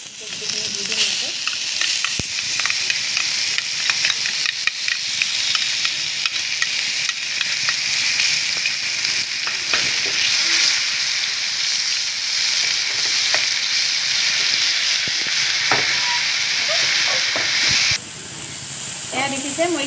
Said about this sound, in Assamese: এয়া দেখিছে মই এইখিনি ভাজি লৈছোঁ অকণমান সময়